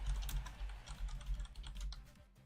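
Fast, uneven computer keyboard typing into Google Translate, a close clatter of plastic key clicks in short bursts that trails off near the end.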